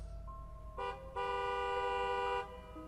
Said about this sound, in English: when I heard a car horn